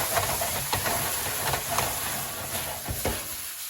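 Tomatoes sizzling in a hot pan over an open flame, giving a continuous steady hiss and crackle with a few louder pops, close and uninterrupted.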